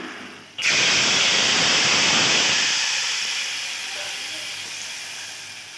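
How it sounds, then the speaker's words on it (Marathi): Tempering hitting hot oil for a mackerel fish curry after garlic has browned, a sudden loud burst of sizzling hiss that stays strong for a couple of seconds, then slowly settles into a quieter steady sizzle. "आता आपण कालवणाला फोडणी देऊया"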